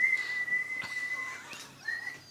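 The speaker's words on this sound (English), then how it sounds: "A whistling kettle, is it?" A whistling kettle gives off a steady, high, sustained tone that wavers slightly and fades briefly before returning, heard up close with faint background rustling.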